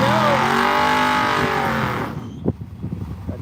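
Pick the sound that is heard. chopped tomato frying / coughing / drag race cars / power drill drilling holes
drag race cars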